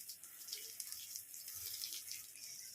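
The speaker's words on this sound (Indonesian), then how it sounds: "kemudian kita siram rata ya teman-teman. Kita basahi media tanamnya" Water is poured to soak the soil in plant pots after fertilizing, a steady hissing splash and trickle that runs continuously and close, with no speech.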